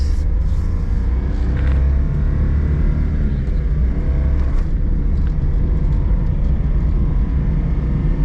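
A Honda kei car pulls along in first gear, its small engine making a steady, loud low rumble from inside the cabin with no talk over it.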